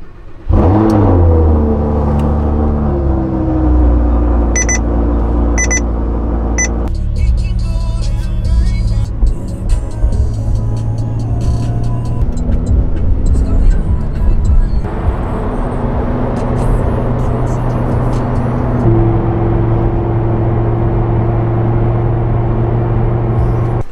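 A Lamborghini Huracan cold starts with a sharp, loud bark, then holds a high, shifting idle with a few rev changes, heard up close and steady throughout with no speech.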